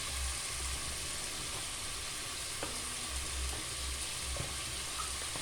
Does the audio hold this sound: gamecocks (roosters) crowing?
no